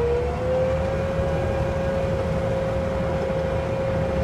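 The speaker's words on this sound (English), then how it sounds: "And engage my hydraulics." A steady mechanical whine from a 2016 Bobcat FC200 with its hydraulics engaged holds a near-constant pitch over a broad, loud engine rumble, continuous and close throughout.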